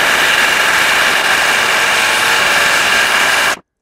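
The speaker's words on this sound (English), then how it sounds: "I'll bet that the impact driver could finish this thing off." An impact driver forces a large bit into wood, a steady loud mechanical whir that holds constant for over three seconds, then cuts off abruptly.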